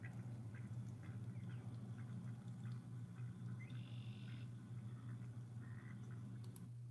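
Faint duck calls and scattered chirps rise over a steady low outdoor hum, with no one talking.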